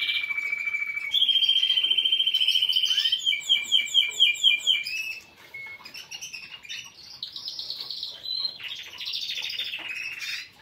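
Young, recently separated birds in a cage chirp in bright, rapid trills and tweets, one steady high call giving way to pulsing bursts and scattered overlapping notes, close and fairly loud with no talking.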